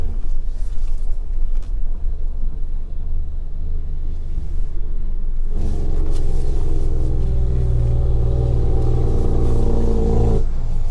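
A large truck driving by on a rural road near Mandeville, Manchester, its engine rumble low and steady at first, then swelling louder and closer as it passes.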